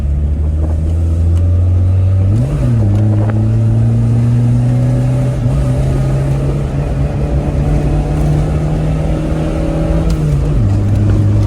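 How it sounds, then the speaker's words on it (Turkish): A Tofaş Doğan SLX car drives along a smooth dry road, its engine droning steadily close up with low harmonic hum that rises and dips with a few gear changes. "arabanın gidişi çok güzel lan"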